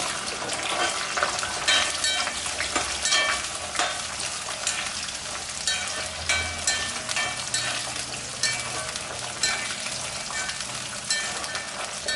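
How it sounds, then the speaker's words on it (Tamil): Onions frying in hot oil for a Chettinad dry fish curry crackle with a loud, steady broadband sizzle, punctuated by repeated spoon-stirring scrapes in an uneven rhythm, close to the pan with no speech. "இப்போ வெங்காயத்தை போட்டுக்கலாம்"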